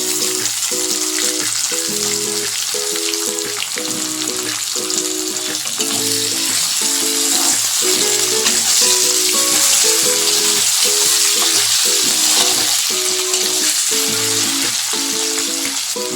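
Onion and potato pieces fry steadily in a pan with a dense, even sizzle for the whole stretch, and a rhythmic background melody plays underneath.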